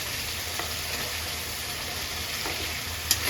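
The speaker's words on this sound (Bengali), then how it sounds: "মশলা সামান্য একটু কষে এলে আমরা দিয়ে দিচ্ছি কেটে রাখা টমেটো" Chopped tomatoes hit frying spices in a pan for chicken curry, a steady close sizzle with faint stirring scrapes and a small clink near the end.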